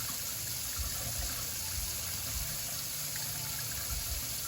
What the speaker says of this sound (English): Now this spoon's a little dirty, so I'm just going to get my sponge.